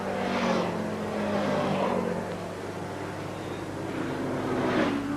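Racing motorcycles in the Castrol 6 Hour endurance race pass by at a distance, their engines swelling and fading in a few fairly faint sweeps over a steady background hum.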